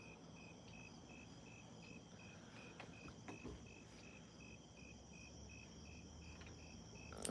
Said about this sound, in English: Lots of crickets in my yard now